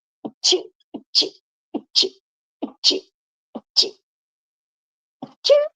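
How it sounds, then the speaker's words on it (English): Several sneezes from one person, about six in quick succession with short gaps and a longer pause before the last, close and clear against silence. "Just sneezing, sorry."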